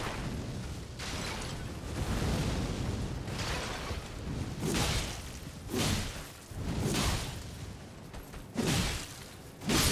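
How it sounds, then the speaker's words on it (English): Fire spell explosions in Elden Ring, a series of whooshing bursts and booming blasts repeating every second or so at moderate level, no talk. "Fire spell."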